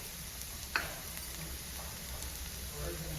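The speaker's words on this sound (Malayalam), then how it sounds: "ഒരു ചെറിയ കഷ്ണം ഇഞ്ചി കൊത്തി നമുക്ക് നമുക്കിതിലേക്ക് ചേർത്ത് കൊടുക്കാം" Onion, garlic and chopped ginger sauté in a pan for a Kerala okra dish, giving a soft continuous sizzle with one sharp utensil tap early on and a faint background tone.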